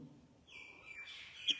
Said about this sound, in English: There's some birds outside.